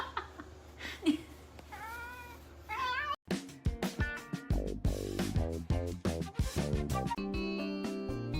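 A cat meows repeatedly and loudly up close, with drawn-out wailing cries that rise and fall in a varied rhythm, some overlapping into caterwauling.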